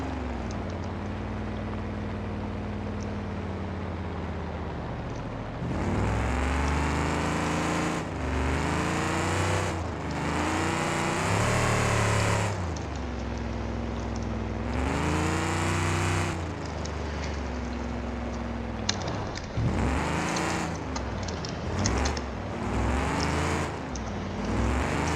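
Lincoln car in the BeamNG video game drifting on dirt, its engine revving and rising in surges and dropping between them, the pitch sweeping up and down through long continuous slides, loud and close with no talk.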